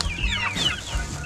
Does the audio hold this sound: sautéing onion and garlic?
no